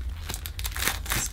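Plastic packaging from a Hoover Professional Dual Purpose vacuum cleaner crinkles and tears as it is cut open, close and brief crackling bursts.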